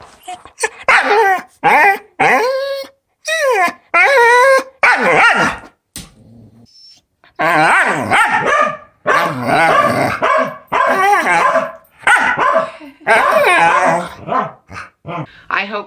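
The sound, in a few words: small Spitz-type dog barking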